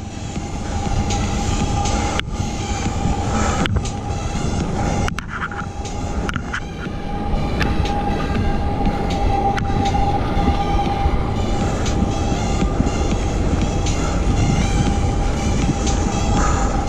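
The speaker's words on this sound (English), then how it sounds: "Another train, damn! That's two trains in like, I don't know, 15 minutes maybe?" A train rolling past near a mountain bike trail, a loud, steady rumble of wheels and cars with rhythmic clacks and a faint squeal, heard close and continuous throughout.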